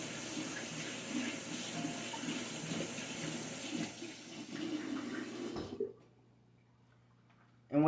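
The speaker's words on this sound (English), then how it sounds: "I'm gonna rinse this spoon back off." Tap water runs steadily into a kitchen sink as a spoon is rinsed off, a close, even splashing stream that cuts off abruptly near the end, leaving near silence.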